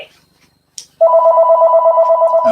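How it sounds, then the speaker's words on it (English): A home landline telephone rings after a near-silent pause, its bright two-tone electronic trill pulsing steadily and loudly, with a brief rustle just before. "That's the phone, you can ignore it."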